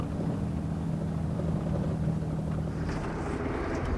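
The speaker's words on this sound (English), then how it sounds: "Look, is it a helicopter or is it?" Helicopter passing high overhead, about 200 feet up, on a remote bombing range, heard as a steady droning rotor and engine rumble that holds constant throughout with no talking.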